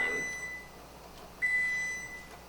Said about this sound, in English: Your bread's done. Did you hear the beeping?